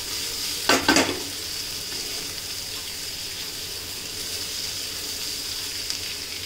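Jeera aloo sizzles steadily in a pan, with a brief burst of spoon-stirring scrape near the start before the frying hiss settles back to a constant, even crackle.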